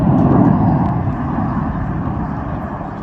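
Snowbirds aerobatic jets flying over in tight formation, a loud broad roar that peaks early and then slowly fades, with no talking heard over it.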